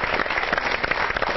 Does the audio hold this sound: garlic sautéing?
no